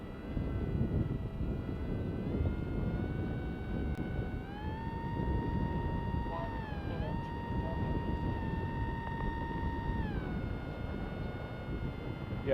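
A small Esky Eagle FPV model propeller plane drones steadily overhead, its motor pitch rising and dipping as it flies, with gusty wind buffeting the microphone throughout.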